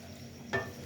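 Mixed vegetables with potatoes, carrots and radish leaves are stirred in a pan, with a short scraping stir and a faint sizzle near the end of a brief moment.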